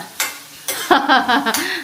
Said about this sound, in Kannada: ಸೊ ಒಗ್ಗರಣೆ ಮಾಡ್ತವ್ರೆ ಯಜಮಾನ್ರು